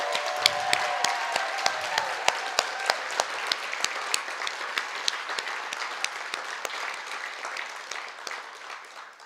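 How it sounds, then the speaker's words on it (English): Audience applause at an applied art and design award ceremony, many hands clapping with a few sharp individual claps standing out near the front, holding steady before gradually tapering off. "Can I please have another round of applause for these amazing humans?"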